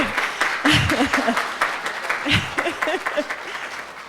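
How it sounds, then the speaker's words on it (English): Applause from an audience after a Christmas stage presentation, steady clapping with a voice speaking over it throughout. "just give them another round of applause"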